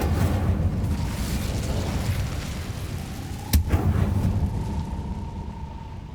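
Incendiary fire spell in Hogwarts Legacy, heard as a low rumbling roar under game sound, with one sharp burst midway followed by a sustained tone.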